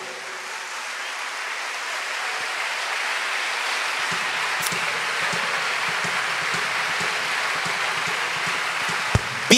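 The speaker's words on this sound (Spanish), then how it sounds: "Dele un aplauso al Señor en esta hora" A church congregation applauds in a dense, even wash of clapping that swells and holds steady, sounding broad and somewhat distant like rain, with no clear voices.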